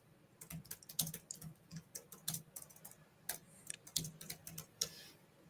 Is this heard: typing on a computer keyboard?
yes